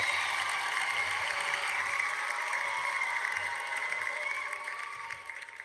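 A canned crowd cheer sound effect plays during a livestream, a broad wash of applause and cheering voices at steady loudness that thins slightly toward the end.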